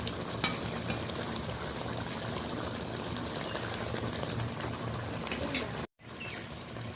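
A koi fish curry cooks in oil and chili in a pan, giving a steady, fairly quiet bubbling sizzle that cuts out briefly near the end.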